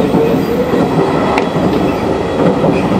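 Train running at Matsumoto station, a loud steady rumble of rolling wheels and rail noise with faint rhythmic clacks, no voices.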